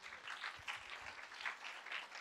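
A church congregation claps hands together in a dense, sustained round of applause, somewhat distant and fairly soft, with no voices clearly heard over it.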